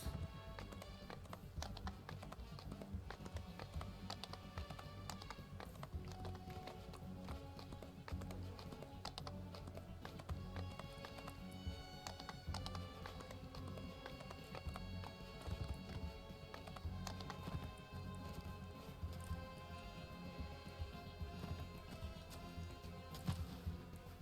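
Steady rapid clopping of video game horse hooves runs throughout at low volume, a continuous tapping rhythm over a faint musical background.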